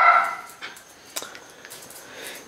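Small pet dog whimpering and yipping indoors, short faint whines and a sharp yelp, close by with no talking.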